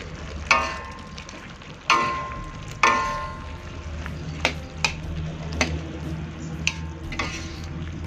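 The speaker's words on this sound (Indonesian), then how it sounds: "Kita aduk kembali." Stirring a pot of corn, meatballs and shrimp with vegetables and spring onion: a few sharp utensil scrapes and clacks against the pan over a low simmering hiss, then lighter scattered taps, close and alone.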